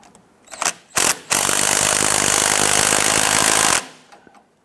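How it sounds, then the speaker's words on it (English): Close by, a power tool gives a couple of short bursts and then one sustained, loud rattling run of about two and a half seconds, tightening bolts on the front lower control arm of a Cadillac Escalade. "let's go ahead and tighten down some of our other bolts"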